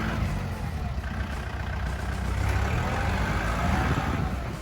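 A Kubota L4708SP four-wheel-drive tractor fitted with a dozer blade and breaking plough runs steadily, its diesel engine giving a continuous, moderately loud drone with no talk.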